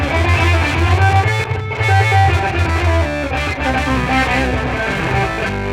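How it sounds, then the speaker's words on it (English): Electric guitar through fuzz and sub-octave effects plays a thick, distorted riff with a heavy low octave beneath it, loud and continuous, from a song lesson. "I'm creating fuzz and I'm creating a sub-octave."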